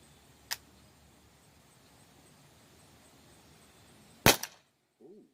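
Umarex T4E .50 cal pistol fired at a bottle: one sharp faint pop early, then a louder close crack near the end, with a brief small knock after.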